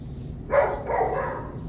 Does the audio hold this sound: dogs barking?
yes